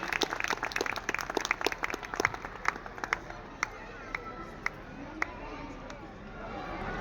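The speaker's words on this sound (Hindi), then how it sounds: "एक बार जोरदार तालियों से आप सबका स्वागत कीजिए" An audience at an event applauds to welcome the chief guest: a burst of hand claps, dense at first and then thinning to scattered claps, with voices murmuring underneath.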